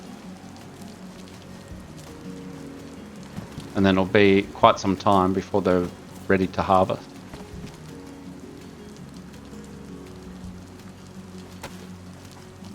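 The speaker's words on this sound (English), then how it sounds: "even though it's raining, but it appears there is enough rain coming in to water the soil for me" Rain falling on a greenhouse in the video game DayZ, a soft steady patter in the background that continues beneath someone talking in the middle of the stretch.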